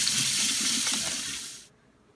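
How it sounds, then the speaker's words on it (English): A kitchen tap runs in a steady hiss while hands are washed beneath it, then the flow is shut off abruptly, leaving near silence. "let's wash our hands"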